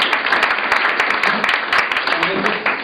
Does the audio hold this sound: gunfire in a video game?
no